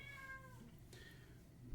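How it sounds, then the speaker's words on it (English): A cat gives one drawn-out meow, quiet and somewhat distant, sliding downward in pitch, followed by a fainter short sound over faint room noise. "Crazy Cat."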